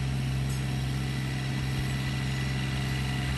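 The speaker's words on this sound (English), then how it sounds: "I love that little tractor. It's so useful." A small tractor engine idles steadily with a low, even rumble, close by and continuous with no talking.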